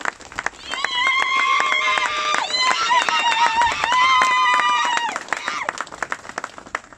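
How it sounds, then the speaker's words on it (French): Mourners at a funeral clap together as sustained singing voices carry over them. The clapping swells to a loud, dense stretch and then thins into scattered claps. "Donc on va applaudir pour Papa Lukombo de ce qu'il a été, de ce qu'il a fait."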